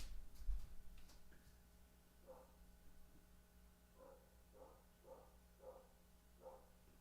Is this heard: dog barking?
yes